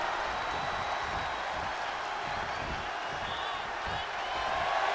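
A wrestling arena crowd roars and applauds continuously, a dense wash of cheering and clapping that swells slightly toward the end.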